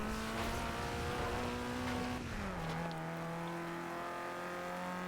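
In the racing game Forza, a car engine holds a steady high rev, then the pitch drops as it shifts or eases off and settles into a lower, sustained drone, loud and continuous with no talking.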